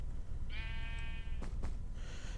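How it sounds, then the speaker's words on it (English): A single wavering sheep bleat from a Minecraft-style block game, clear and mid-distance, followed by a couple of short soft clicks over low background hum. "and that was a sheep."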